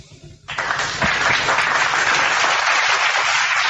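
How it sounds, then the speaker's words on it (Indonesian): A church congregation bursts into applause after a brief quiet moment, clapping loudly and steadily close by until the end. "Tepuk tangan untuk Yesus."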